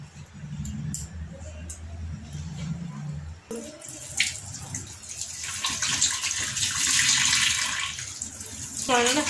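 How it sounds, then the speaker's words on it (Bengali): Cold tap water runs steadily over boiled chow mein noodles being rinsed in a kitchen, a continuous splashing rush with faint voice sounds briefly at the start and end. "চাউমিনটা দেখো একটু ঠান্ডা জল দিয়ে ধুয়ে নিচ্ছি"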